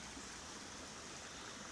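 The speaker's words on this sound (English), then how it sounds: "one of the log steps in the step pool restoration of San Pedro Creek below Capistrano" San Pedro Creek below Capistrano pours over a log step in a restored step-pool channel, a steady, close broadband rush of falling water with no break and no voices.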